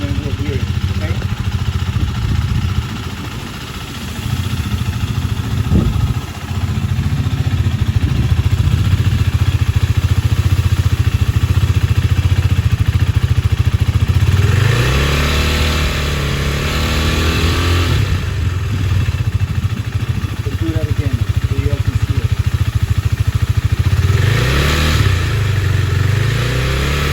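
A Husqvarna Svartpilen 401 motorcycle fitted with an upgraded aftermarket exhaust idles steadily, then is blipped up toward 4,000 rpm in a couple of loud rising revs, with someone talking over the engine noise.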